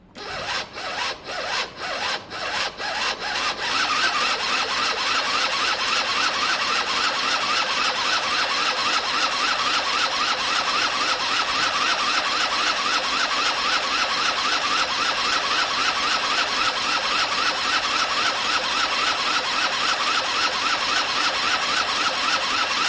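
A Gilera DNA 50cc scooter engine cranks in several rapid, sputtering bursts, then catches and spins up into a steady, buzzing high-pitched whir that continues close and loud.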